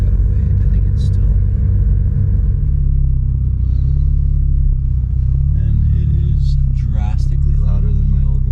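A bagged BMW 335i E92 with air suspension runs close by, a loud, steady low engine rumble that carries on throughout while people speak over it.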